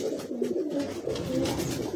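A male Zirya-type Madrasi high-flying pigeon coos at a loft near Howrah, giving low, throaty, rolling coos held close and steady for about two seconds.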